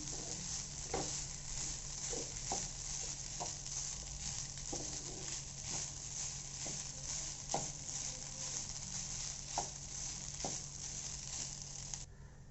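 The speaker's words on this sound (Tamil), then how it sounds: "ஸோ இப்போ இதை வந்து நல்லா சமமாக நம்ம மிக்ஸ் பண்ண போகிறோம்" A spatula stirs kodo millet (varagu) rice into vegetables in a sizzling pan, with soft scraping and a scattering of light taps against the pan over a low, constant frying hiss, quiet and close.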